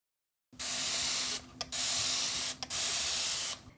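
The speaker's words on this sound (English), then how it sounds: "This is such a satisfying spray bottle," Continuous mist spray bottle spritzing water onto a dried, crusty paint palette: three long, even hissing bursts with brief gaps between them, close and clear with no talking.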